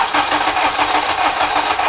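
A Honda Civic Type R EP3 engine cranks without catching, giving a steady, evenly pulsing starter churn close by for the whole short stretch.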